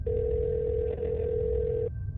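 A telephone call tone as a sound effect: one steady electronic tone holds for about two seconds and then cuts off abruptly, with a low background hum underneath.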